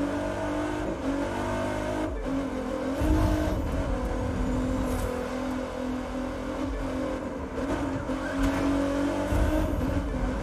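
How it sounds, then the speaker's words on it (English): Cars drift and race in The Crew 2, with a sustained engine roar, rising and falling revs and tire squeal running continuously at a loud level and no speech. "Things drifting like crazy."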